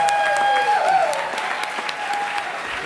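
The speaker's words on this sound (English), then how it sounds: "Give yourselves a big, massive round of applause." Audience applause at the close of a live Boxing Banjo show in Germany, a broad wash of clapping with a few whistles and shouts, gradually thinning out toward the end.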